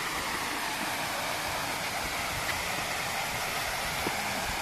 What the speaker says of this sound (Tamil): ஆகாய கங்கைக்கு அடுத்து ஒரு பெரிய அருவி இது